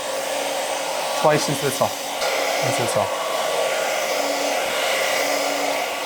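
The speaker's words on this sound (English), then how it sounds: "I'm just going to do a little bit of drying, just like that." A hair dryer blows steadily and close while curly hair is dried during a medium-length haircut, with a few brief words spoken over the constant whoosh.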